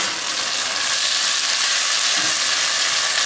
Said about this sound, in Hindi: तो एक से दो मिनट इसको भूनने के बाद